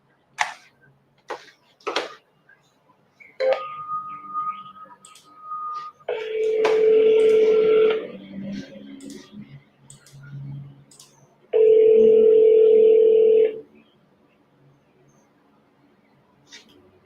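A phone call is dialed and routed to voicemail: a few clicks and short beeps, then a steady tone, two longer loud ringback-like tones with gaps between, and faint clicks after.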